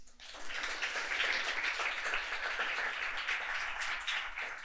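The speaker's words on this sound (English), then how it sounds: "Also, the same warm applause for the Lorena Marčec." Sustained applause from an audience at a student finance panel, steady dense clapping filling the room for several seconds without a break.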